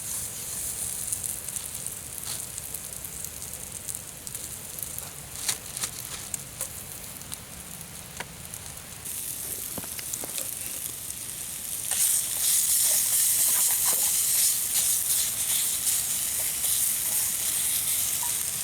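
Bacon frying in a pan gives a steady, close sizzle with light crackles and pops, growing somewhat louder and brighter toward the end.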